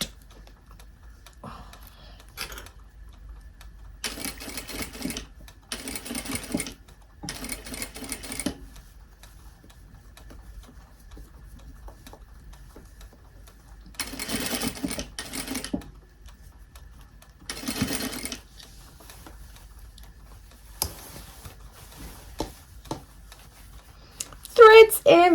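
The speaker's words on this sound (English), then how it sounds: "I've got another hour-ish to keep sewing." A domestic sewing machine stitching the body of a dress in bursts of several seconds, separated by quiet pauses, moderately close, with faint handling sounds between runs.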